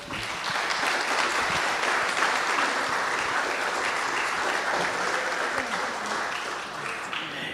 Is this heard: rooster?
no